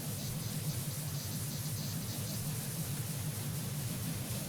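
Steady pressure washer water spray in the video game PowerWash Simulator, a constant hissing rush over a low rumble that holds even throughout without a break.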